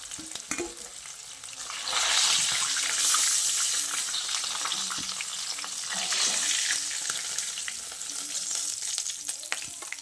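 Chicken pieces for biryani fry in hot oil with a loud, steady sizzle and crackle that swells after the first two seconds and runs on, with occasional stirring knocks and no voices.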